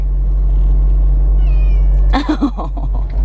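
A cat in a carrier meows in a short cluster of three or four loud, close calls over a steady low hum, following a long stretch of quiet background.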